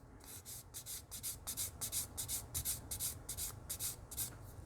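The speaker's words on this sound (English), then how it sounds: "And again, all of these are wet sanding." Wet sanding a plastic model kit with 320 grit sandpaper gives a steady back-and-forth scrubbing, about two strokes per second, close and moderately loud with no talk.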